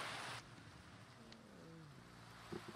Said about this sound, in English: we have a loud noise right now, which is the rain